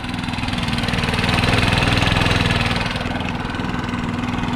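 A STIHL leaf blower engine idles close by with a steady, throbbing putter and a constant low hum, and no one speaks over it.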